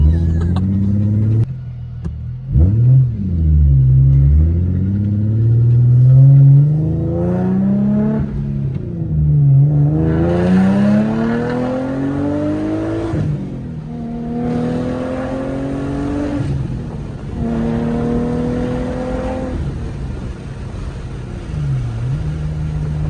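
An Infiniti G37 with a rebuilt drivetrain and flat-spotted tires drives on the road, its engine loud and close as it repeatedly revs up through the gears in rising sweeps, dropping between shifts.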